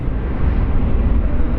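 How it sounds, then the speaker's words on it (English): Embraer E190 jet engines roar steadily at an airport, a loud, sustained low rumble with no pauses and no voices. "I mean, who doesn't love that engine sound of E190s"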